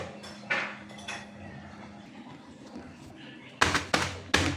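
A metal pot is covered and food inside is mashed with a utensil, giving a few scattered clanks and scrapes, then a loud cluster of sharp clangs near the end.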